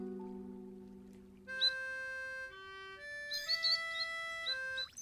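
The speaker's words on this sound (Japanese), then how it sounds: "あ、鳥だ。" Bright, melodic birdsong chirps and trills play over a layered musical score in the Snufkin: Melody of Moominvalley video game, the calls rising clearly in the second half.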